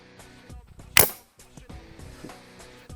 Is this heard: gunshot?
yes